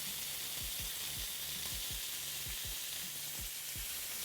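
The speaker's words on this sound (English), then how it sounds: "That one did not sear good at all." Steak searing in a hot pan gives a steady broadband sizzle and crackle, with regular low thumps repeating about every half second underneath, close and continuous with no talk.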